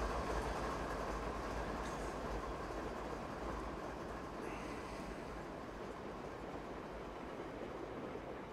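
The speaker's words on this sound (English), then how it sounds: "Do a quick train by, why not?" Long BNSF freight train rolling past in Train Simulator 2016 on Marias Pass, a steady loud rumble of rail cars with faint clatter that holds evenly throughout, no voices.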